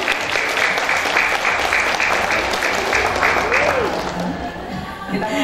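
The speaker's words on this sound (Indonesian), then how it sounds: "Saya boleh minta tepuk tangan yang meriah untuk beliau dong." Audience applause at an inauguration ceremony for regional Himpaudi officers in Karawang, a dense, sustained clapping from a large crowd with rhythmic bursts, while an amplified voice speaks over it and the applause fades near the end.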